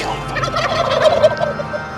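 A wild turkey gobbles in a rapid, rattling burst, loud and close, with no other sounds around it.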